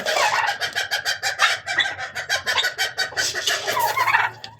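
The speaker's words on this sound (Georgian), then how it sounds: "მაგარი მამალი მყო." A rooster crows loudly and close, its call broken into rapid pulses, amid clucking fowl and other birds.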